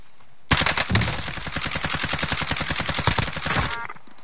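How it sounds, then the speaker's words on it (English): Automatic gunfire in Call of Duty: Warzone, a long rapid burst of evenly spaced shots lasting about three seconds, loud and close, starting abruptly after a brief quiet moment. "Stop shooting at me!"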